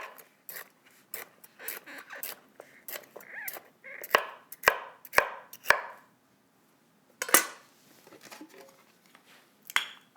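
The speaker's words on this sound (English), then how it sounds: "So I'll just chop it up. I'll chop up the celery." Zucchini and celery being chopped with a knife on a cutting board, a quick irregular series of sharp close taps with brief pauses between bursts, no talking.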